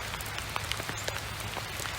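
Steady rain falling and pattering on surfaces, a dense continuous hiss with scattered drop taps, no voices.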